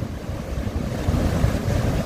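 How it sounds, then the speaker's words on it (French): The Rivière aux Rochers on Quebec's Côte-Nord, in the Parc de la Taïga near Port-Cartier, rushes past as a loud, continuous roar of turbulent water with no voices. "La magnifique rivière aux Rochers."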